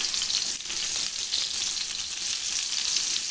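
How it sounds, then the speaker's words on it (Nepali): Chopped onion frying in hot oil for chicken curry, a loud, steady broadband sizzle that holds unbroken throughout with no voices. "अब चाहिँ मैले अघि काटेर राखेको हैन प्याज चाहिँ हाल्दिएँ यसमा"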